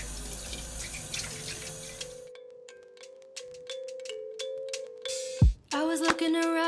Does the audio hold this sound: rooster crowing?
no